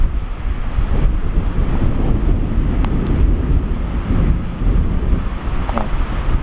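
Strong gusty wind at the Malico Viewpoint in Nueva Vizcaya buffets the microphone in a constant loud rumble, with blustery surges and no voices.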